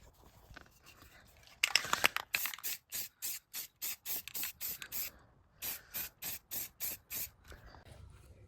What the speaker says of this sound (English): now it's time to spray it with the white spray paint